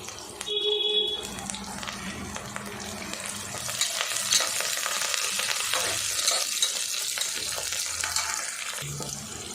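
Onions with coriander and mint leaves sauté in a pan for a mushroom biryani, a steady close sizzle and frying hiss with stirring scrapes running throughout.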